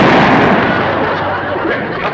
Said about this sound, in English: Jethro shot a fox